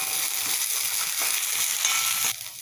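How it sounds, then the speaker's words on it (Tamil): Rock salt dry-roasting in a pan while making pirandai podi gives a steady, close, dense hiss with fine crackle that runs unbroken and softens slightly near the end. No one speaks. "கல் உப்பு சேர்த்து இதையும் வறுத்துப்போம்"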